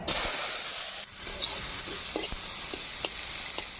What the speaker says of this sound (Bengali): আমি ডুমুরটাও ভেজে নিব।